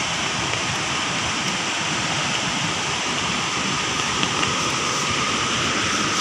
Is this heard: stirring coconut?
no